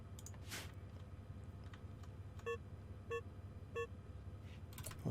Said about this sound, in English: What's the beeping?